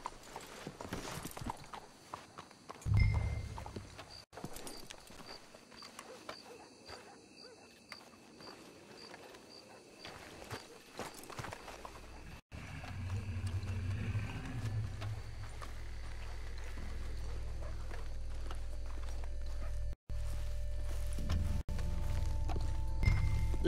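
Horse hooves clip-clop at a walk in Red Dead Redemption 2, fairly quiet against a night ambience with owl hoots, and a low rumble builds toward the end.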